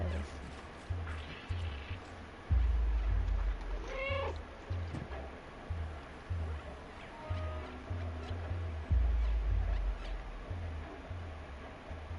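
A cat in the video game Stray gives a short rising meow amid a dark game soundscape with repeated low thuds and faint creaks, the meow brief and fairly close.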